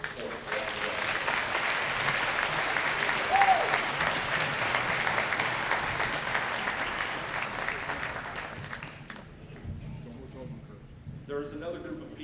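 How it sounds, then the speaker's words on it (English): A graduation crowd at Tonganoxie High School applauds parents, a dense, sustained roar of clapping that fills the hall, then thins and fades toward the end as a voice starts up. "Graduates, please join me in giving your parents a round of applause for their support around the way."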